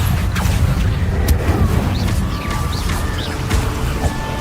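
Confringo fire-blast spell cast in Hogwarts Legacy, a loud dense rumbling burst with booming low end and whooshing magical effects layered on top, steady throughout with no clear talk.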